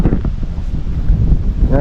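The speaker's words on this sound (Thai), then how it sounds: "ลมพัดตลอดเลย" Wind gusting at a seaside viewpoint, buffeting the microphone in a loud, rough, continuous roar, with a voice briefly audible at the end.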